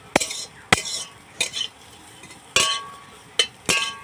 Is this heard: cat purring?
no